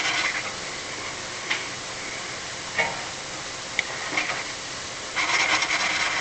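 Valve lapping on a Coleman Powermate 5000ER generator engine, a valve being rotated back and forth against its seat with grinding grit, giving a soft continuous gritty rub with a few sharper scraping bursts near and alone.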